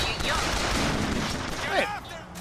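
Gunfire in Bioshock Infinite, a dense continuous barrage of shots with a voice briefly audible over it.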